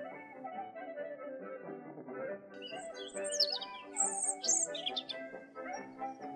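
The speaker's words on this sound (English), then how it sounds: "During the spring, birds are more vocal, as they sing to attract mates and warn away rivals. Look at this robin." A robin sings in spring, with bright chirps and short warbled phrases rising over a steady sustained tonal background, the calls clustering in the second half at moderate loudness.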